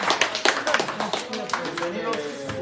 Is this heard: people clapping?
yes